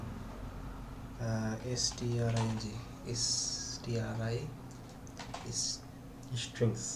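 Code being typed on a computer keyboard during object-oriented programming work, with quick clusters of light key clicks between and under a man's nearby speech.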